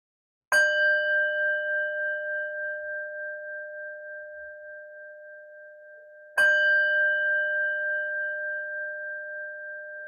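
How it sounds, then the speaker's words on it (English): A meditation bell is struck twice, about six seconds apart, each stroke a clear ringing tone that hangs and slowly fades with a gentle pulse, alone in quiet surroundings. "preparing to open your eyes as I ring the bell."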